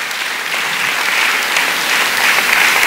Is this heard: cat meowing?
no